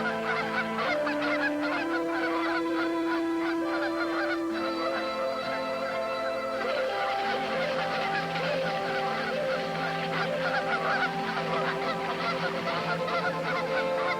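Wild geese honk repeatedly in flight, a flock calling together in a dense, steady chorus over an open sky with no talking.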